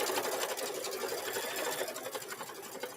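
An embroidery machine stitches free standing lace, a steady, dense mechanical whir with rapid needle clatter running continuously at close range, with no talk over it.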